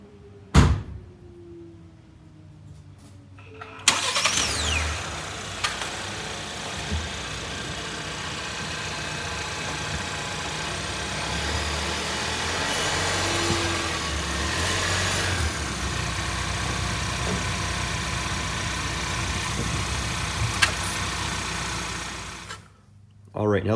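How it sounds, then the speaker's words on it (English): A 2022 Ford Maverick FX4 pickup truck rolls up onto a set of ramps, its engine running steadily for about twenty seconds at close range, with a brief door-like knock at the start and no talking. "we're going to go ahead and get the truck up on the ramps here"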